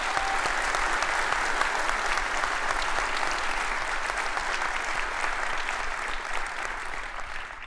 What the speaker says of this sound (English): Can you all give them a huge applause?